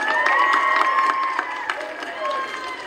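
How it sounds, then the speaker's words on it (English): Audience at an evening White House event cheering and whooping, with scattered shouts and a steady crowd roar that stays loud and continuous for a few seconds; applause is not distinct beneath the voices. "Give them a round of applause."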